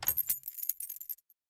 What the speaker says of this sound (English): I unlock my front door.